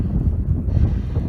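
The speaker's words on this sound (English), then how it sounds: "Ooh, it's windy" Wind gusting across a grass and alfalfa hay field on a mild day, a steady low rumbling buffet against the microphone that holds throughout without pause.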